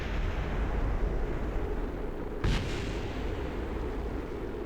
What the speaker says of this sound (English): Ooh, big old flames and explosions.